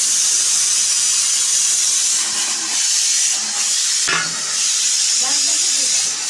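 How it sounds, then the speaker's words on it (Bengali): A pressure cooker cooking dal hisses with a loud, continuous rush of steam, broken by a few faint clatters and some background sounds. "এদিকে প্রেসার কুকারে ডাল হয়ে গেছে"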